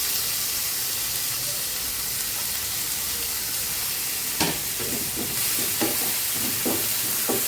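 Crumbled paneer and boiled chickpeas fry in a pan with a steady loud sizzle and hiss, broken toward the end by a few scraping stirs.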